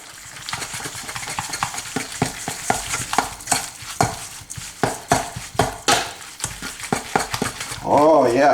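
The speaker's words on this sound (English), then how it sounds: "I'm gonna mix all this together" A large spoon works through a sticky meatball mixture with breadcrumbs for Hawaiian meatballs, making steady squelching, scraping stirs with repeated close knocks against the bowl; a voice briefly joins at the end.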